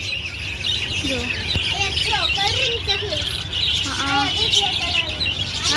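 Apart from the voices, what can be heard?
caged birds chirping, pigeons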